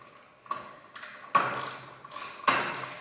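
Tightening a part on a garage door torsion spring, a few sharp metallic ratcheting clicks and clanks spaced irregularly, close by with no talking.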